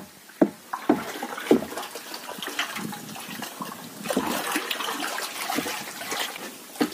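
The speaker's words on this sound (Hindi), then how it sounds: "इस घोल को हम डंडे के सहायता से मिला लेंगे।" Cow dung from a desi cow mixed into about 30 litres of water is being stirred with a stick. The slurry gives off sloshing, splashing water sounds, with repeated strokes that rise and fall and no talk over them.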